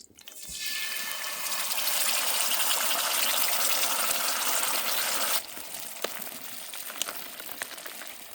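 Water gushes loudly and continuously into a camping pan holding a packet of rice and a dal aloo matar, then drops to a quieter trickle with a few small knocks near the end.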